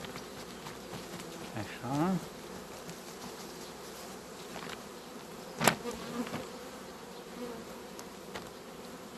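Bees being brushed off hive frames from a strong colony give a faint, steady close hum with a couple of sharper buzzing bursts, and someone says a single word.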